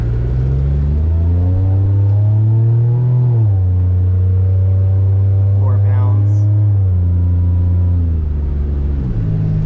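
A supercharged Pontiac Bonneville SSEi engine revs up and down from a steady idle, its loud, close drone rising in pitch twice, while people talk over it.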